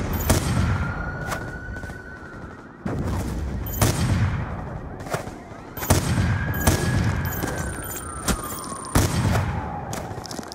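Scattered gunshots and booming shots in Call of Duty Black Ops 2, sharp cracks every second or so over a dense battle din, with faint distant radio-like tones.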